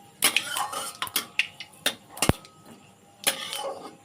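Dried chillies and panch phoron being stirred in oil in a pan for aloo posto, with sharp clinks and scrapes of a metal spoon against the pan in an uneven rhythm, close and clear.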